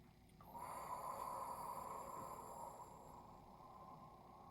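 A single long forceful exhale during a breathing exercise, a close, steady breathy rush lasting a couple of seconds before fading.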